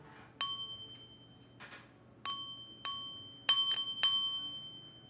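Copper tool set with gemstones struck like a bell, several bright ringing strikes spaced irregularly, each ringing on and fading out, close and clear with no talk.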